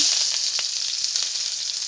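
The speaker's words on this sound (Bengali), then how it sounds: "এখন আমি পেঁয়াজ কুচি দিয়ে দিচ্ছি তেলেতে" Chopped onions dropped into hot oil give a steady, close sizzle with faint crackles, heard alone with no talking.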